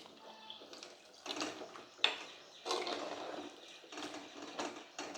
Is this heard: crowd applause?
no